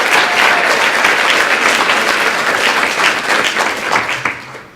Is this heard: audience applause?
yes